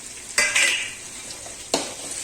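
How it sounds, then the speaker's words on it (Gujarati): Ginger-garlic paste stirs and fries in a hot pan for a vegetable dish, with a steady sizzle broken by a few sharp scraping strokes of a spoon against the metal. "થોડું હલાવીએ, લસણની કચાશ દૂર થાય ત્યાં સુધી લસણને જરા શેકી લેવાનું"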